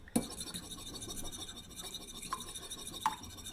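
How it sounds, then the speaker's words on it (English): A fork whisks eggs in a bowl for spaghetti carbonara, giving a quiet, steady scratchy swirl with a few brief clinks of metal against the bowl. "We're going to whisk the eggs."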